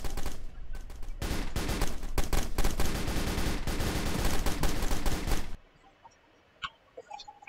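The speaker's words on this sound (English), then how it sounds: "We got shots fired." Rapid gunfire in a roleplay video game: a dense, loud, sustained volley of overlapping shots for about five seconds, then sudden near-silence with a few faint clicks.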